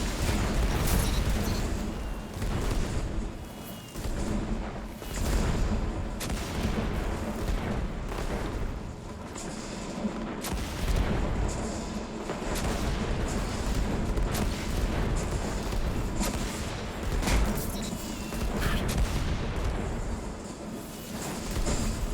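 Cannon fire in a Destiny 2 Crucible match: dense, loud, continuous booming blasts and gunfire overlapping throughout, with heavy low rumble and repeated sharp explosive hits.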